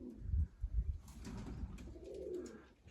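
Pigeons in a Siyazan loft coo softly at close range, low throaty calls and a brief flutter over a quiet room.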